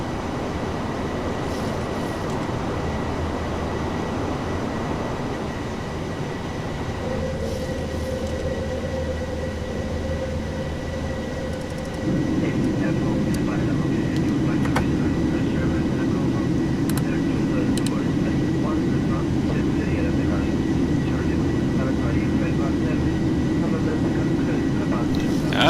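A Boeing 737-800 in the PMDG flight simulator rumbles down the runway and into its climb, the steady engine roar jumping louder about halfway through and holding, with a man calling out over it.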